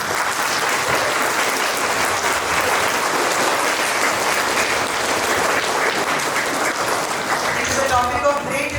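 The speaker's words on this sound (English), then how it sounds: "A big round of applause." Sustained, loud applause from a school assembly audience after a student skit, a dense wash of many clapping hands that holds steady throughout with a lively crowd murmur beneath.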